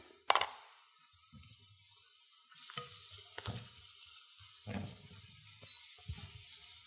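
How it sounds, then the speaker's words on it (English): Onions sautéing in oil in a pan, a soft, fairly quiet sizzle that begins after a sharp clink, with occasional stirring scrapes and small knocks, close by and without talk. "So I'm sauteing my onions"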